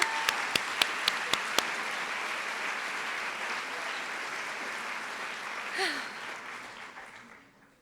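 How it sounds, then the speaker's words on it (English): An audience at a school district opening session breaks into sustained applause, preceded by a few sharp isolated claps, with a brief cheer or whoop midway before the clapping fades out. "One more cheer for them."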